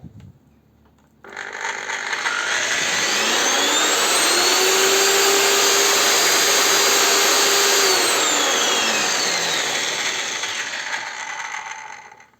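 The motor of an Einhell RT-CS 190 L circular saw is switched on after a rotor replacement and runs free. A loud whine rises to full speed, holds steady for several seconds, then winds down.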